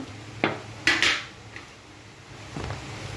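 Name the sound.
coating chicken pieces in seasoned flour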